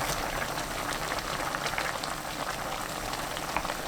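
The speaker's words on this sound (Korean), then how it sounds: "파 넣고 2분 더 끓입니다" Doenjang braised chicken stew with onion, chili and green onion bubbling in a pot, a dense, even, close boiling hiss with soft popping throughout, no talk.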